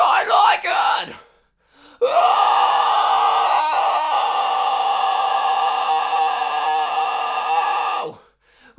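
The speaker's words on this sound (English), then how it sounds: "This is a really heavy scream right here!" A harsh, sustained heavy metal scream in the style of Bullet For My Valentine's "Tears Don't Fall", held loud and close for about six seconds after a brief gasp-like breath and short pause.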